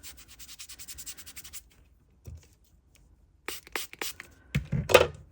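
A resin skull tray has finish rubbed into it by hand, heard as a quick run of soft rhythmic rubbing strokes followed by scattered scuffs, handling noises and a brief close voice.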